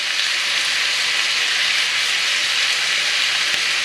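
Brisket beef with oil, salt and pepper browning in a pan gives a loud, steady sizzle and hiss, continuous and close with no pauses, no voices over it.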